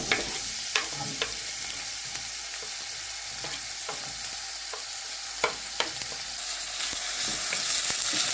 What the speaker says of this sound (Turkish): Yağ kızdı soğan ekleyelim.